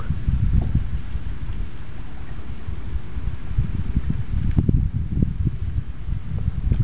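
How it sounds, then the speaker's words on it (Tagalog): Strong wind roars and buffets steadily across the whole stretch, with low rumbling gusts and rustling swelling in bursts. "Lakas ng hangin."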